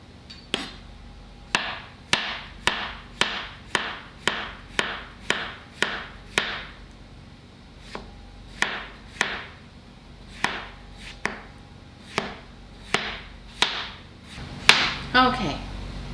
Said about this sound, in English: we are done slicing our potatoes